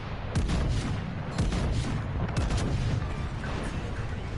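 Battleship secondary guns fire in World of Warships on a Tier 7 IJN Kii, a dense rolling barrage of booming shots and crackling reports layered over constant loud battle rumble.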